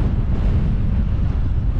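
Strong wind buffets the microphone in a continuous low, rumbling roar during a mountain bike ride in the Yorkshire Dales near Grinton, with no voices.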